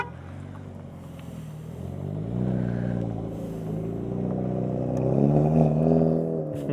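A Hyundai Elantra N engine revs up with rising pitch as it pulls away, growing louder before the note climbs again.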